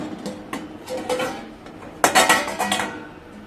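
A metal plate set down into a heated kadhai while making cake at home: sharp metallic clanks and scraping clatter, a few light knocks followed by a louder burst of rattling metal contact, close and clear.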